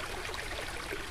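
A small stream in New England woods in late May gives a steady, soft broadband rush of flowing water, faint and continuous with no voices.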